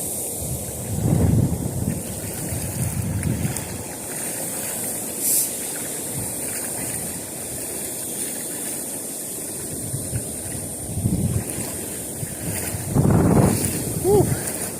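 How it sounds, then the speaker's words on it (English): Wind gusts buffet the microphone beside a strong-current river during fishing, with broad rushing noise swelling and fading in several bursts over steady water sound. "Wind."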